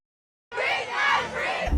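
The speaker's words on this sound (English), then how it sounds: "Summer, you got booed." A crowd boos and yells in a loud, sustained wave after a moment of silence.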